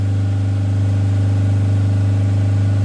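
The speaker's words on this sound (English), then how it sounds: "I'm just going to keep the revs there for a moment" A Fiat Ducato camper van diesel engine is held steadily at about 3,000 revs during DPF cleaning, a loud constant drone with a strong low hum and no letup throughout.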